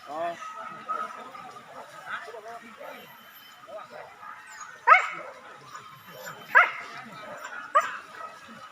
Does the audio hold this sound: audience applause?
no